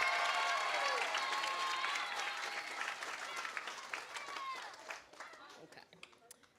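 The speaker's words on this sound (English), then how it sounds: "Give her a round of applause." Applause from an audience at a Merrick Academy 5th grade moving-up ceremony greets a teacher, starting dense and gradually thinning to scattered claps, with faint crowd chatter and a few cheers mixed in.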